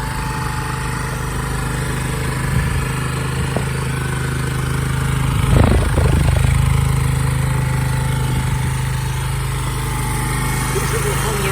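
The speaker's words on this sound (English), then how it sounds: "This little Honda engine at the front." A Honda SCV100 Lead scooter's small engine idles with a steady low putter close by, while someone talks over it and a brief louder rustle breaks in midway.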